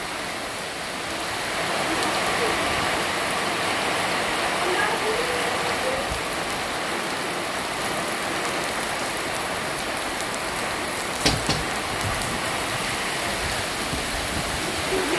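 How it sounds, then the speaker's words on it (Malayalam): Heavy monsoon rain pours outside a house in Kerala, with wind, as a dense, steady roar of falling water that stays loud and unbroken throughout. "കാറ്റും മഴയും തകർക്കുകയാണ് പ്രിയമുള്ളവരെ."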